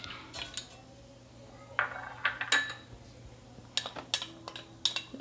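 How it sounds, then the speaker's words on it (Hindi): A pan set on a stove with oil and ginger added: scattered metallic clinks, taps and scrapes of cookware and utensils, close by, over a low steady background hum. "सबसे पहले रखेंगे हम पैन, उसमें डालेंगे हम तेल, उसमें डालेंगे हम अदरक"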